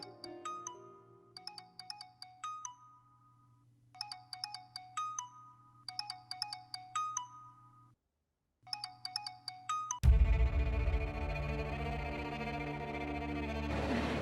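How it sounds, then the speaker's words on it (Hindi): A mobile phone ringtone plays in a Pakistani TV drama scene, a repeated electronic melody pattern that rings several times with a brief pause, then cuts to a dense, loud wash of sound. "किसका फ़ोन है बेटा?"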